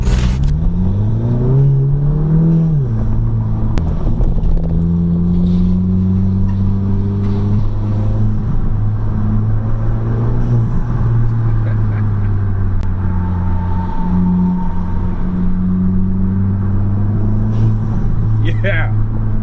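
A VW MK7 GTI with an Injen intake on its EA888 engine accelerates steadily, giving a loud, continuous engine drone with rising and falling pitch as it revs, and a faint intake whoosh beneath it. Someone talks over the engine.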